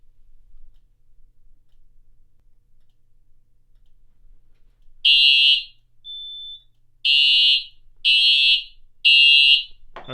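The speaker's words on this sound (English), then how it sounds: "Okay, so that's an alarm." A fire alarm triggered by test smoke on a smoke detector sounds in loud, piercing electronic beeps: one long tone, a brief softer tone, then three more sharp bursts in steady succession.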